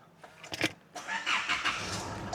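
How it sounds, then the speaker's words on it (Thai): A 2018 Isuzu MU-X 3.0 engine runs close by with a rough, steady mechanical roar that builds after a brief sputter at the start. "โอเคเสียงเครื่องยนต์นี่ปกตินะครับ"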